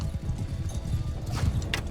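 Horses ridden by steppe bandits in a video game gallop with rapid, close clip-clop hoofbeats that run continuously, with a faint whinny-like burst near the end.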